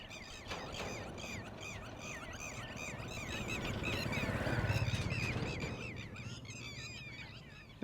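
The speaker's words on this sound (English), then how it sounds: "we have all kinds of birds going crazy out here" A dense chorus of shrill, squealing bird calls overlapping continuously in Khao Lak, Thailand, with a low rumble swelling and fading in the middle.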